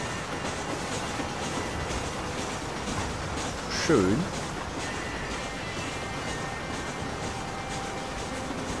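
Train rumble and rolling rail noise in Red Dead Redemption on PS3 continue steadily throughout, with a brief louder bell-like clang near the middle and a voice speaking over it.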